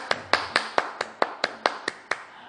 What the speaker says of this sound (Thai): ปรบมือให้เด็กๆหน่อยครับ